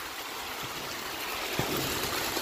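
Clean water flowing down inside a tunnel, a constant faint broadband rush with no breaks, one small knock partway through.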